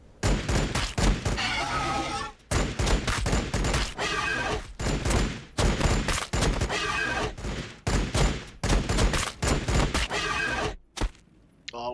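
Heavy stubber fire in a Warhammer 40,000 game, with loud, close, rapid bursts of automatic gunfire repeating in several volleys separated by short gaps.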